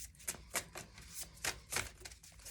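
Oracle cards are shuffled up close in quick, uneven riffling bursts, soft crisp slaps repeating over a couple of seconds.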